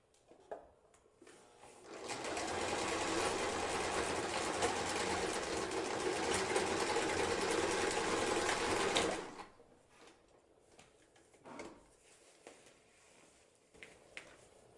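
A sewing machine runs a long continuous stitch through sleeping-bag fabric with synthetic insulation, steady and close for about seven seconds before stopping, followed by quieter handling noises.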